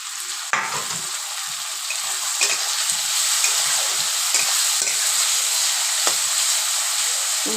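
Chopped tomatoes hit hot oil with a sudden burst of sizzle, then settle into a steady, loud, close frying hiss with occasional scraping stirs; no voices.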